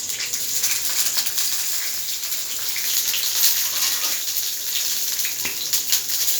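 Ridge gourd pieces frying in oil with green chillies in a kadai, a steady hiss and sizzle that runs evenly throughout with occasional sharper crackles.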